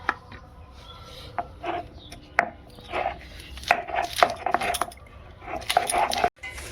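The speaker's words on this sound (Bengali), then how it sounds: "আদা বাটা হয়ে গেল রসুনটা বেটে নিই" Garlic being ground into a paste, heard as a close series of irregular knocks and gritty scrapes with short pauses, growing busier toward the end.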